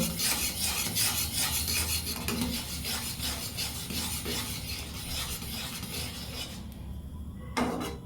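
A spoon scrapes and stirs dal with turmeric in a pan for bitter-gourd dal, a steady rasping rub repeating in slow strokes, close and loud, with a brief pause near the end.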